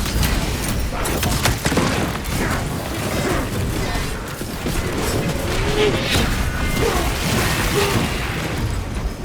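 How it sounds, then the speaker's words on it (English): A crack grenade detonates in Space Marine 2 amid dense, continuous battle noise, with loud crashing blasts, debris and gunfire layered throughout. "Unleashing crack grenade."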